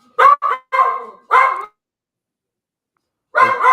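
Dogs bark outside in a quick burst of four or five loud, sharp barks, go quiet for a couple of seconds, then start up again with another bark.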